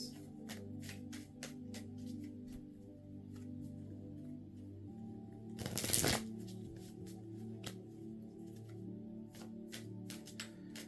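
Tarot cards are shuffled by hand close up, a soft rapid riffling and patting with a brief louder flurry midway, quiet and alone.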